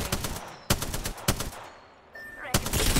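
Automatic weapon fire in the Apex Legends battle royale game, loud close bursts of rapid shots separated by short pauses, with a final sustained burst at the end.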